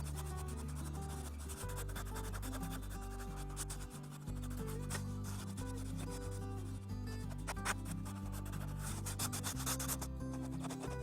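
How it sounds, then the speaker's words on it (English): Roughing up the surface of a Coleman Bayside Elite pop-up camper to prepare it for Bondo body filler, a steady continuous rubbing and sanding scrape that runs without pause, loud and close, with no talk. "I'm just going to give this a little bit of roughing up so our Bondo can grab a hold."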